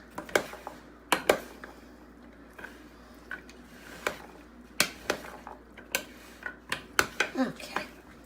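A Tuscan bean salad is stirred in a bowl, with a utensil knocking and scraping against the sides in scattered, irregular clinks and taps, fairly close and alone.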